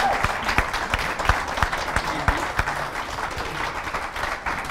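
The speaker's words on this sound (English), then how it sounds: "Everybody give the two of them a round of applause" Loud, close applause from a crowd at a ladies' Gaelic football gathering in a hotel, with crisp individual claps standing out from a steady roar of clapping throughout.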